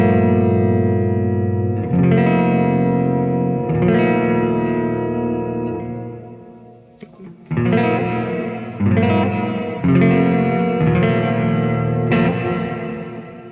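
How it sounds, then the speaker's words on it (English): Sustained electric guitar chords through a Walrus Audio Qi Etherealizer reverb, tone maxed out, ring out with lush, washy reverb and slight modulated shimmer, each chord decaying into a long tail before the next strum. "Just to let you hear what the reverb sounds like by itself"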